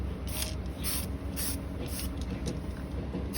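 An aerosol spray paint can hisses in short, evenly spaced bursts outdoors in the wind, each spray lasting a fraction of a second, over a steady low background rumble.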